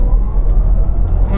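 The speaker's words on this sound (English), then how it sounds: "to go into Sport Plus mode and then do a launch control, just because we can" A Porsche Taycan Cross Turismo electric car in Sport Plus mode launches hard from a standstill, a loud, close, steady rumbling whoosh of acceleration with road and wind noise and no talk.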